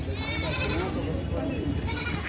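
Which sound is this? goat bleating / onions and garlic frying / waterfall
goat bleating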